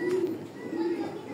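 Racer pigeons coo in low, throaty rolling calls, close and clear, repeating in two short bursts within a loft.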